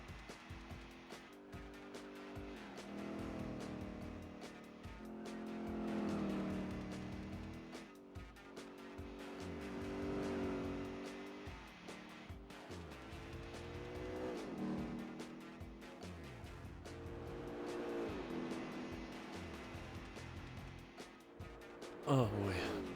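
Race cars, a Buick and a Lotus, rev and drone around the track in Gran Turismo 4 during a 200-mile New York race, engine pitch rising and falling steadily through gear changes, with a brief sharp sound near the end.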